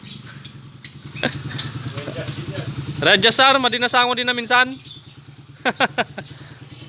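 A Motor Star motorcycle converted to 175cc, with a clutch problem, runs with a steady low engine drone throughout while people talk nearby, with a brief burst of louder voices midway.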